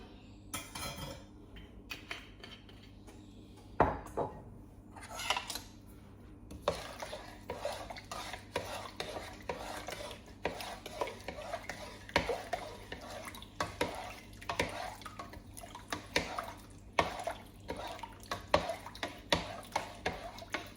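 A spoon stirs a batter of flour and olive oil in a bowl for uštipci, giving steady scraping and clinking taps close by, with a few louder knocks against the bowl and no talk.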